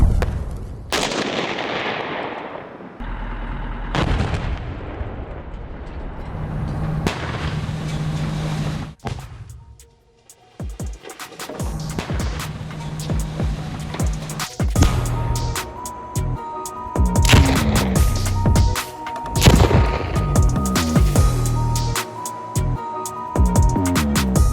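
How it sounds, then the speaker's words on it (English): Artillery guns positioned on a bridge fire direct fire in a series of loud, sharp blasts with rumbling tails, spaced irregularly across the scene. "The guns were placed on the bridge. They worked with direct fire."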